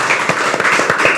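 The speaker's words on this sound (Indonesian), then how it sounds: "Tepuk tangan untuk Mas Kuku." A crowd applauds Mas Kuku at an Islamic talk gathering with loud, dense clapping that crackles sharply and continuously throughout.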